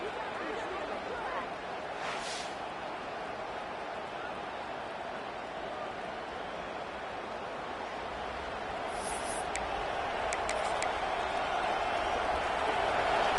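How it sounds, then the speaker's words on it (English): Football stadium crowd at an Ohio State versus Oklahoma game, a dense sustained roar of cheering that swells louder toward the end, continuous and broad like a packed stands' noise. "this crowd is fired up. Listen to this noise here."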